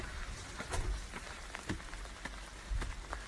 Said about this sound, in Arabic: مطر ترى مطر صبيب صبيب المطر